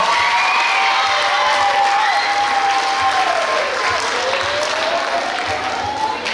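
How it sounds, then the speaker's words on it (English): A school pep rally crowd applauds and cheers for a student being honored, a loud, steady wash of clapping with rising shouts and whoops throughout, close and dense, with no clear talk. "Let's give Elena a round of applause."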